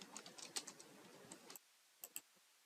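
Quiet, rapid key clicks as an email address is typed on a computer keyboard, a dense run of taps followed by a short pause and a few final keystrokes.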